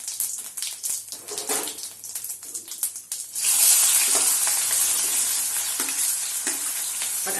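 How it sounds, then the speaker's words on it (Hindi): Onion dropped into hot oil with cumin in a kadhai for an egg lababdar curry, sizzling up loudly after a few seconds of quieter stirring and clatter, then holding a steady, bright frying hiss to the end. "अब इसमें प्याज डाल देंगे"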